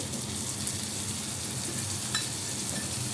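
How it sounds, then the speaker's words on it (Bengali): Mustard, chili and turmeric powders fry in hot oil with a steady, even sizzle that carries on unbroken and fairly close, with no voices over it. "এটা একটু তেলের মধ্যে ভেজে নেব"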